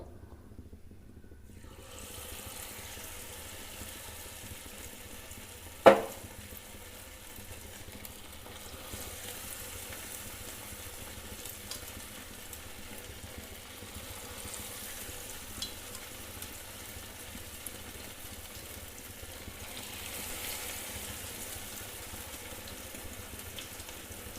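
Chicken pieces fry in hot coconut oil for restaurant-style chilli chicken, a steady soft sizzle running throughout with one sharp clatter early on as a piece drops in.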